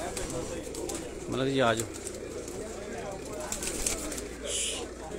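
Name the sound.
pigeons cooing on a rooftop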